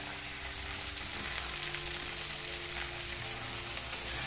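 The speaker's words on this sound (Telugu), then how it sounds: "ముందుగా మనం పచ్చిమిర్చి, కరివేపాకు వేసేసుకుందాం. ఇప్పుడు ఉల్లిపాయ" Green chillies, curry leaves and onion frying in oil, a continuous even sizzle with a light crackle throughout, steady and moderately quiet.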